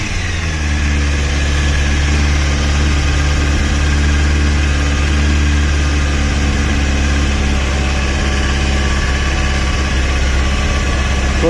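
A Honda 600cc motorcycle engine runs steadily and loud for the whole stretch, a constant low rumbling idle with strong harmonic drone and no clear rev rises, heard alone without talk.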